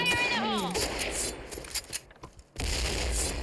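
Gunfire in a shooting video game, dense bursts of shots and booms over game sound, briefly thinning out before a loud sustained volley returns; a voice talks excitedly over the top.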